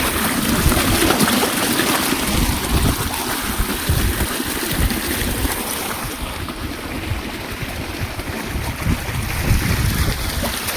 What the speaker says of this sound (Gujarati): પાણી જો આવે છે બાજરીમાં એવું છે